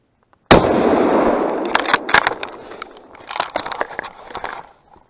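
A single loud, close rifle shot from ground level during a public-land deer hunt cracks out of silence, followed by a few seconds of rustling, crunching movement and small clicks.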